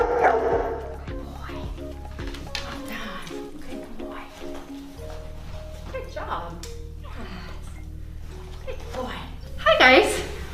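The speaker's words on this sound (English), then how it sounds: "do you hear that dog barking? That means they're alerting to a seizure." A black Labrador seizure response dog barks and yips in alert, giving several sharp barks and whimpers amid background sounds, with a louder burst of barking near the end.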